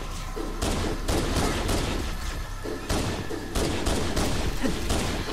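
Pistol fire and combat in the Halo video game: repeated sharp gunshot bursts and heavy thumps in quick succession, loud and close, layered over a dense game soundscape.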